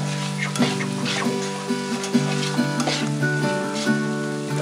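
Chili powder being stirred into a hot frying pan: a steady, close sizzle runs throughout, with soft scraping strokes of a spoon recurring every second or so.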